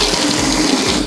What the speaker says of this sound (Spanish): primero hay que ponerle agua